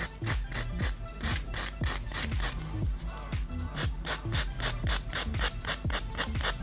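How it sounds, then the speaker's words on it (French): A poly-acrylgel nail is filed in quick, regular rasping strokes, each scrape crisp and close, repeating steadily with no break. "Je vais limer un peu le dessus parce que c'est trop épais."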